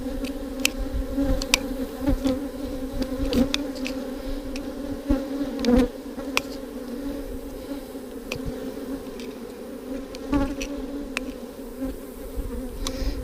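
Honey bees hum steadily in an opened hive during an inspection, a dense close drone with scattered individual bees buzzing past and light clicks of handling.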